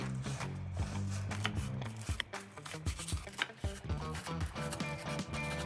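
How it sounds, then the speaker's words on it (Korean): A knife chops green onion (daepa) on a cutting board in a quick, steady run of close crisp taps, with short pauses between bursts and no talk. "저는 반을 갈라준 다음에 쫑쫑쫑 썰어줄게요"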